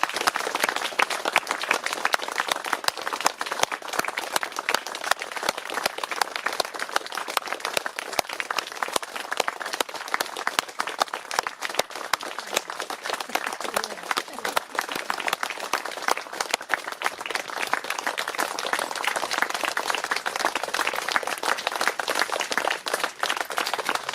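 A sustained round of applause from a gathered crowd of mourners at a funeral, dense steady clapping holding evenly for the whole stretch, with a faint murmur of voices.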